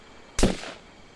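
A single sharp gunshot in Jagged Alliance - Back in Action, loud and close, with a sudden crack and a short decaying tail, alone without talk.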